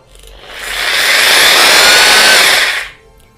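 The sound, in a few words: rotary hammer drill running in drilling mode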